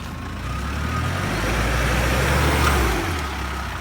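Mahindra Thar engine idling and rumbling as the vehicle reverses, a steady close low drone that swells slightly in the middle and eases off toward the end.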